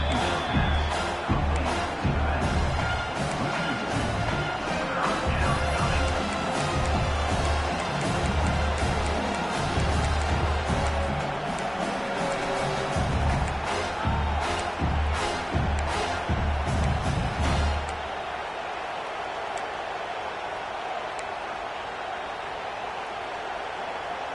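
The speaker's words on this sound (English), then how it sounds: "Decibels rising as the crowd gets behind this defense on third down." A football stadium crowd roars on a third-down defensive stand, a dense, loud wall of cheering and shouting that swells and holds steady, then drops abruptly into a quieter murmur near the end.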